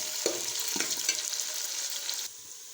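Onions dropped into hot ghee, a bright crackling sizzle with a couple of clunks as they go in, close and loud, then easing to a quieter hiss near the end, no voices.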